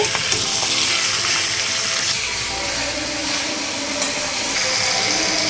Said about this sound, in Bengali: দু থেকে 3 মিনিট আমি পেঁয়াজের সাথে এইভাবে চিকেনটাকে একটু ভেজে নেব।